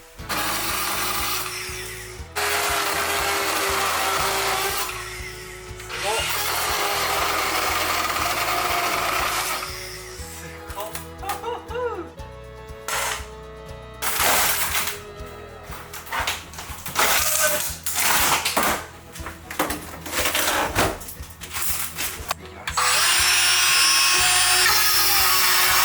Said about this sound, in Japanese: それは手持ちの丸のこ。